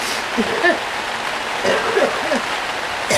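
Steady rain falls outdoors in a city setting, a dense continuous patter with occasional heavier drops, moderately loud and without talk.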